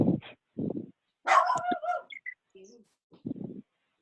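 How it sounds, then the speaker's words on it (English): A dog barking in the background of an online video call, several short separate barks and yips spaced out irregularly, moderately close, with short stretches of silence between them. "Who's got a dog there?"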